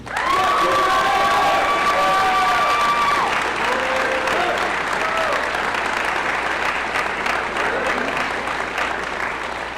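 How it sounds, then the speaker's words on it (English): Loud, sustained applause from an audience at a high school academic awards night, with dense clapping, some cheering and whistles, and crowd voices underneath throughout. "you can just tell by the applause."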